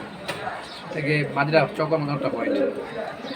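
Racing pigeons, a pair of white and chocolate birds, coo in low repeated throaty phrases close by, with someone talking over them throughout.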